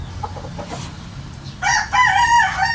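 A five-month-old fighting rooster crows once, loud and close, its harsh drawn-out call rising after a stretch of quieter background noise and scattered faint clucks.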